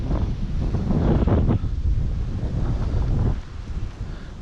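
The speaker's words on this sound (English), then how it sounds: "windy." Wind blows hard across an outdoor hilltop in springtime, a steady loud rushing buffet on the microphone with surging gusts, no voices.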